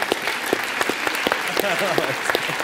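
A studio audience at a Latvian late-night comedy show claps continuously, loud and close, with scattered sharp claps and a voice speaking over the applause.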